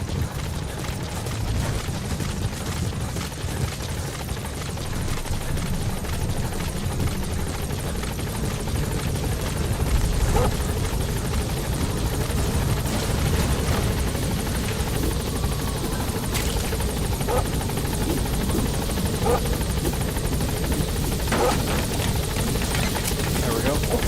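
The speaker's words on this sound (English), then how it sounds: "Support helicopter has arrived" A support helicopter in Metal Gear Solid 5 arrives with a loud, continuous rotor roar and engine drone, holding steady and close for the whole stretch, with occasional sharper clicks over the top.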